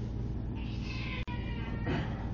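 A pet cat named Alley Cat meows in two drawn-out, close calls separated by a brief pause, heard alone over steady low background noise.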